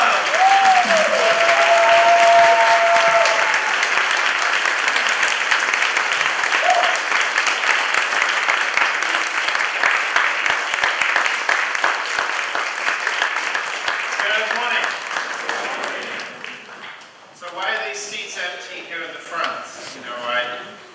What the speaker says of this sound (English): with a big round of applause, let's welcome Dr. Michael Falco